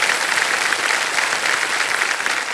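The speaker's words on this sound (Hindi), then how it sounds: "तालियां बज जाएं इनके लिए।" Studio audience at a televised quiz show breaks into steady, loud applause, a dense wash of clapping that holds evenly throughout with no talk over it.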